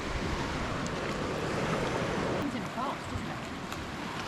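Surf rolling in on the beach at Nash Point, a steady broadband wash of waves with wind across the microphone, continuous and fairly loud throughout.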